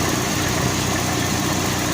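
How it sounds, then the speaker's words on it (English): A 1989 Plymouth Voyager turbo engine idles with a steady, even rumble and hum, running alone without pauses. "Which will take probably 10 minutes or so of it just sitting here idling away."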